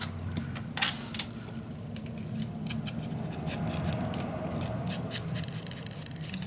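Scissors cutting through paper for a vintage winter mini album, close and crisp with a few sharp snips early on, then a steady run of cutting to the end.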